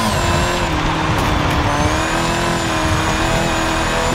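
Car driving in Forza Horizon 5, a steady, loud engine drone with sustained tonal hum and tire noise, continuous and close throughout with no pauses or talk.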